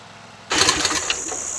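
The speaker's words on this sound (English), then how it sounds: "I'll go back and forth and use the mobility of this mower." A stander lawn mower with an Edgemen edger attached starts up and runs close by, a steady loud engine drone with a high whine that begins abruptly after a short quiet moment.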